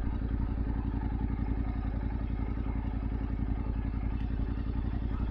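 A Yamaha Ténéré 700 motorcycle idling and crawling at slow speed, its engine a steady, close, low-pitched throb with a fast even pulse and some mechanical clatter, unchanged throughout.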